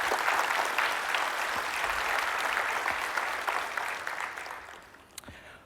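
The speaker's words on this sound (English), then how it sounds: "So I would like for you guys to join me in applause to all those groups, our sponsors, our speakers," A conference audience at an opening keynote applauds sponsors and speakers with sustained, dense clapping that fills the room, then gradually thins and fades toward the end.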